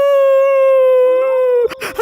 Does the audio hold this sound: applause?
no